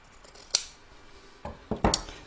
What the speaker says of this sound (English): Let's just trim that up a little bit better.